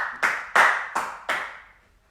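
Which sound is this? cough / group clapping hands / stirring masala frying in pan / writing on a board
group clapping hands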